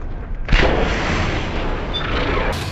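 Weapon fire in the video game Shadow Warrior, starting with a sharp, loud blast after a quiet lead-in and followed by a sustained, dense barrage of shots.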